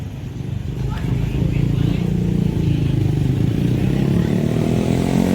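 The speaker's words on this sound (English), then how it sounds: "So that's obviously a modified exhaust." A Mopar V8 car with a modified exhaust rumbles with a deep, steady low grumble that swells in the first second and then holds, loud and close, at a late-night downtown car-spotting scene in Naperville.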